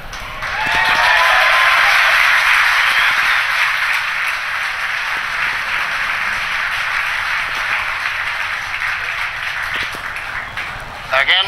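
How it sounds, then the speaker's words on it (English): Sustained applause and cheering fill a SpaceX launch control room after confirmed payload fairing separation on the Hispasat 30W launch, a dense steady clapping wash that starts abruptly and holds loud for about ten seconds before tapering. "Again, the applause."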